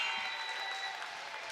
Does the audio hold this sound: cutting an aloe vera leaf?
no